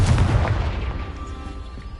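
A Confringo spell explosion in the Hogwarts Legacy video game lands as a loud, close, deep boom, then a rumbling tail that fades over about two seconds.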